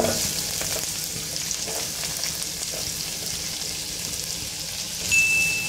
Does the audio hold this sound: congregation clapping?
no